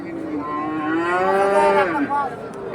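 A crossbred bull calf at a rural cattle market gives one long, loud moo lasting about two seconds, which dips and fades at the end over a busy market background.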